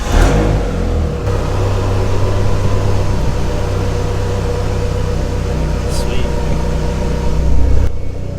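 A Dodge SRT4 car engine runs at a loud, steady idle with a continuous low rumble and slight fluctuations throughout.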